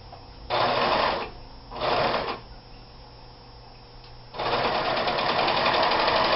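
A serger sewing light cotton fabric runs in three bursts of fast, buzzing stitching: two short runs, then a longer steady run after a quiet pause.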